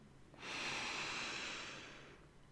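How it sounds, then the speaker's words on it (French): A single long, deep inhaled breath during a calm sleep-relaxation session, drawn slowly and close to the microphone, swelling quickly and then fading gradually over about two seconds, with no talking. "prends ta première inspiration"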